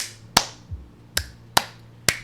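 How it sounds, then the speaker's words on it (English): Four sharp, isolated hand claps ring out at uneven intervals in a quiet room, with a soft low thump between the first two. "Clap again."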